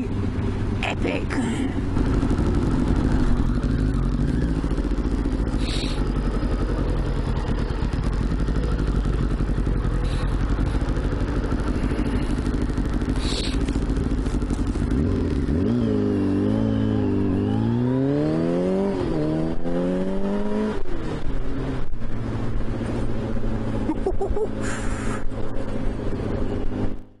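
A 1989 Kawasaki ZXR750 H1 motorcycle is ridden at speed, its engine a continuous loud drone under heavy wind rush, with rising and falling revs through gear changes midway.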